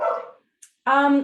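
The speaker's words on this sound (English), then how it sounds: "Maybe you can hear my dog barking in the background here" A dog barks indoors in the background, two short loud harmonic barks separated by a brief pause.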